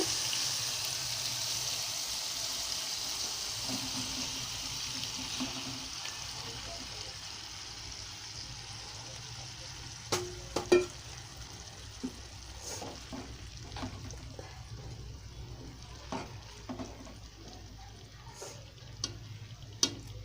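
Tomato pieces for a sorakaya tomato curry fry in a pan with a soft, steady sizzle, faint and close, broken by scattered clicks and taps of stirring.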